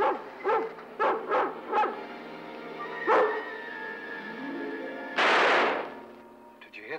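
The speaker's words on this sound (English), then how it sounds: "Did you hear that? Sounded like a shot." A dog barks several times in quick, sharp yips, then a single loud gunshot cracks nearby after a pause, followed by a fading tail and a faint final bark.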